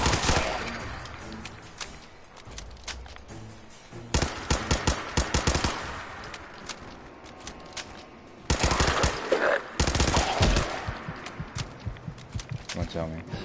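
Bursts of rapid automatic gunfire in Fallout 4, loud and close, arriving in several volleys with short pauses between them, with someone talking over parts of it.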